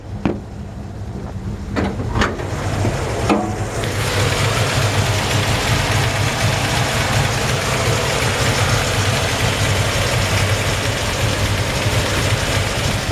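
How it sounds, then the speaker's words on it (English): A 1955 Chevrolet 3100 pickup with a mild cam idles with a steady, loud rumble, settling into a constant running drone after a few clicks and knocks at the start. "You can hear the little cam it's got in it. It's a really just healthy engine."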